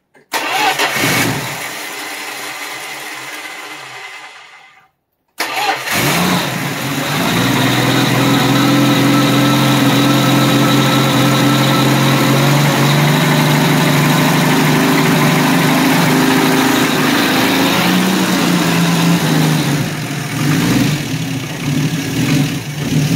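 A car engine cranks briefly, stalls into a moment of silence, then catches and settles into a loud, steady idle with a faint miss. The choke is propped open and the ignition is lower quality than an HEI system.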